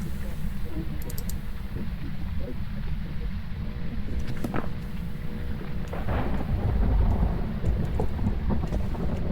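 Rain and rumbling thunder in the ghost-hunting game Phasmophobia, a steady heavy wash with deep rolls, alongside scattered keyboard and mouse clicks.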